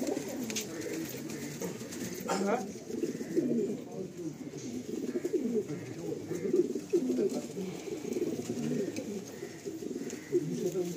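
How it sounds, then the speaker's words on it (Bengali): Andhra high-flying pigeons, including black-headed Kalsira birds, coo continuously in a crowded loft, a dense, steady, overlapping murmur of many birds with a voice at times in the background. "একদম চাপ চাপ কালসিরা পায়রা রয়েছে।"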